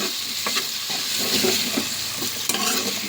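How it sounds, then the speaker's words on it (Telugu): Oil and ginger stirred in a pan for banana fry, a close sizzle under repeated spatula scrapes and taps at an irregular rhythm, no one talking. "ఈ ఆయిల్, అల్లము ఇదంతా కలిసేలాగా చక్కగా కలుపుకుందాం"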